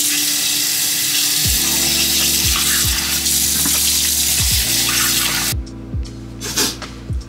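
Tap water running steadily while face wash is rinsed off, a loud continuous splashing hiss under repeated low descending tones, then cutting off near the end to a few soft drips and handling noises.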